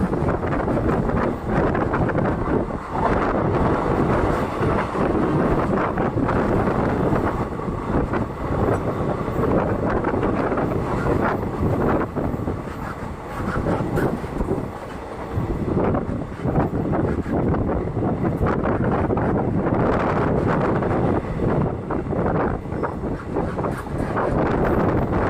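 Train running between Punalur and Nagercoil, a continuous loud rumble of carriages and wheels on track, heavy with wind buffeting the microphone throughout.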